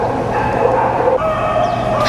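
Several dogs bark and yip at an obedience trial dog show in Marikina, sharp overlapping barks over a busy, noisy crowd background.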